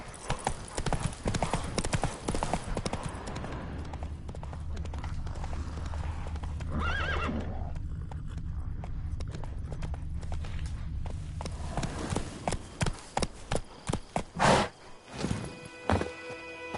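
Roach the horse gallops in The Witcher 3, with rhythmic hoof clip-clops and a clear neigh partway through, and hooves slowing into scattered thuds near the end.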